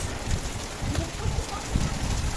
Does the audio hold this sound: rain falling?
yes